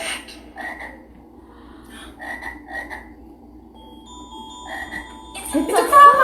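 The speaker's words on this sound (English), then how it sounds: "It's a frog." Frog croaking in short repeated calls, several evenly spaced croaks over a steady background, fairly loud and close, with a brighter noisy burst near the end.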